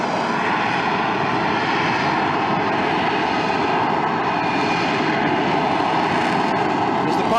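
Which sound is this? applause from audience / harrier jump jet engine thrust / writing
harrier jump jet engine thrust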